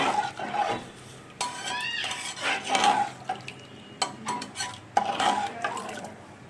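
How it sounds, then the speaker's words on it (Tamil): Utensils clink and scrape against a pan while stirring wheat rava upma with water, with soft liquid sloshing and intermittent metallic taps, close up. "இப்போ நம்ம மிக்ஸ் பண்ணிடலாம்."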